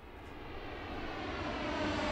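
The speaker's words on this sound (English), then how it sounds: "Boeing 737, flight number LV300, Belfast to Antwerp. Can tell by the drone." A Boeing 737 jet passes overhead with a steady, broad engine drone that swells gradually louder over two seconds, with no voices.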